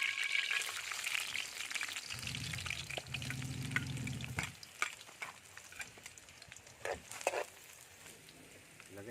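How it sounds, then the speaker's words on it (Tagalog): Garlic and other ingredients sautéing in a pan for arroz caldo, a steady sizzle with stirring scrapes that swells in the middle and thins toward the end, heard close with no talk. "Igisa natin yung ingredients niyan, master."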